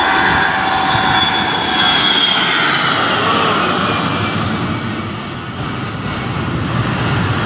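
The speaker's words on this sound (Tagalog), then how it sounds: "Ayun na guys, yung aeroplano guys." A loud, steady roar from an airplane passing overhead at Boracay beach fills the whole stretch, dipping slightly and then swelling again.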